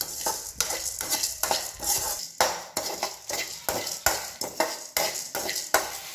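Whole spices being dry-roasted and stirred in a hot pan for sambar powder, with a steady run of scraping and clinking strokes of a utensil against the metal and a faint sizzle underneath, close and fairly loud, with no speech.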